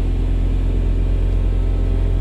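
A KIA Sedona engine idles at slightly high revs after an air intake hose repair, a steady, loud, close low rumble with no change in pitch over the short span.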